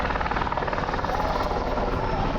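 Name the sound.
helicopter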